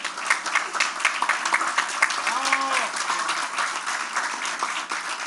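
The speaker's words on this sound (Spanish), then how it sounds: "que los aplaudimos" Crowd applause at a public political event in Mexico, sustained dense clapping from a large audience throughout, with a brief voice briefly rising above the clapping.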